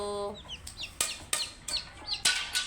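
Native country chickens and chicks cluck and peep close by. Sharp clucks and high chirps repeat in an uneven rhythm at moderate loudness, with no talk over them.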